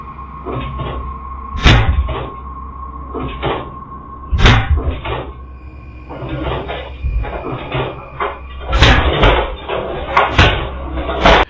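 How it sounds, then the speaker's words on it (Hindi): A kitchen cabinet door swings open and shut repeatedly, with several sharp wooden knocks and bangs and softer creaks over a low steady hum, close and fairly loud. "किचन कैबिनेट का दरवाजा अपने आप खुलता और बंद होता है"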